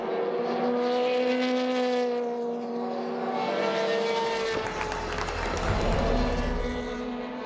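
Ferrari and Porsche endurance race cars at an FIA WEC race, steady loud engine drone with shifting pitch as cars pass, growing rougher and deeper toward the end.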